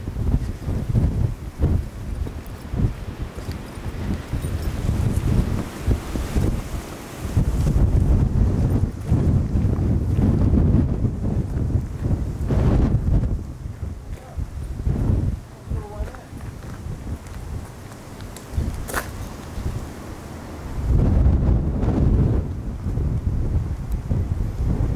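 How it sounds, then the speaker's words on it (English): Strong wind buffets the microphone outdoors at the citadel in Calais, a loud, gusting low rumble that rises and falls throughout while a person talks. "Get away from this wind."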